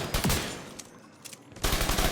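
Shotgun blasts in The Division 2, two loud heavy shots a bit over a second apart with a quieter gap between them.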